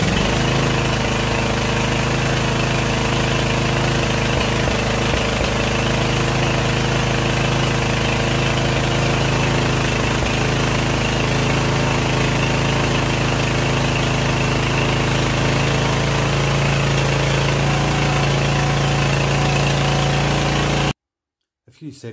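A 48V DC generator's engine running on LPG, a steady continuous drone with a low hum that holds evenly for about twenty seconds before cutting to silence.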